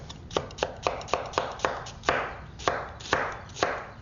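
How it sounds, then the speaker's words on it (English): A knife slicing radially through an onion on a cutting board, about a dozen crisp, evenly spaced chops, close and fairly loud, each with a short crunchy tail, with no voices. "using your knuckles to guide, cut radially up to the middle of the onion"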